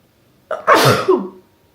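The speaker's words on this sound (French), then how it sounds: "j'ai envie d'éternuer." A single loud, close sneeze with a quick intake of breath and a sharp burst, trailing off into quiet.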